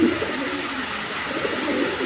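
Low, throaty cooing from a male Dragon pigeon repeats through the clip, steady and close, over a soft background hum.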